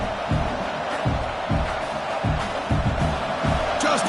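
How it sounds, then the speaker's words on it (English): A home stadium crowd in a college football video game, Auburn at Texas A&M, roars in a steady wash of cheering with rhythmic swells, heard over a commentator talking. "this home crowd is fired up and ready to make a difference today"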